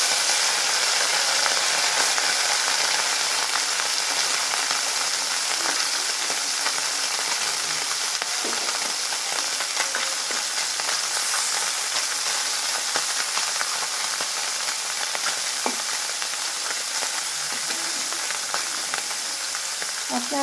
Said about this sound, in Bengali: এখানে মাছ কটা ভেজে নিব।